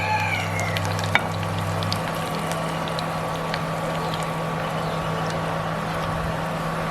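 Onions frying in a pan, a steady close hiss and sizzle running throughout with a faint low hum beneath it and one small clink.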